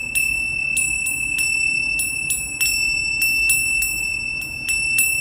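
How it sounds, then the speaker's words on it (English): A handheld Tibetan bell from a chanting practice rings in a steady series of about a dozen bright strikes, each leaving a sustained shimmering tone that overlaps the next, close and clear with no voices. "Bells are for the heart opening."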